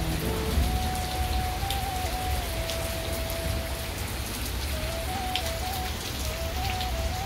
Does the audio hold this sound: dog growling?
no